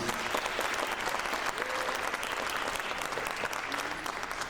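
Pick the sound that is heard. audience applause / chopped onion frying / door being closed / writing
audience applause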